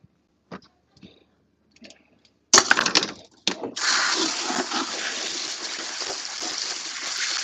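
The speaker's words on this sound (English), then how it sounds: "Rinse off my swish whisk." Tap water splashes while a whisk is rinsed in a hair salon, a few light clicks first, then a sudden gush settling into a steady, close rush of running water.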